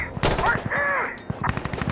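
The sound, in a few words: burst gunfire in video game Insurgency Sandstorm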